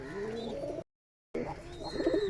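Golden pigeons, a male and female pair, coo nearby in low, throaty rolling phrases, broken by a brief gap of silence before the cooing resumes with some lighter chirps.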